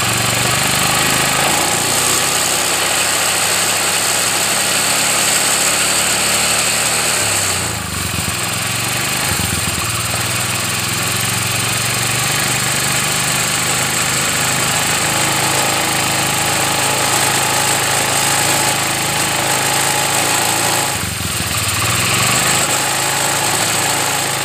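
A Honda BEAT scooter engine with a flooding problem held at steady throttle: a loud, continuous buzzing drone close by, with a couple of brief dips and surges in pitch.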